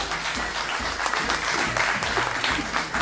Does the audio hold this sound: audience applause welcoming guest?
yes